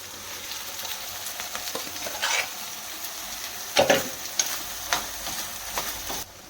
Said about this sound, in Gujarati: હવે આપણે તેમાં મગ નાખીશું।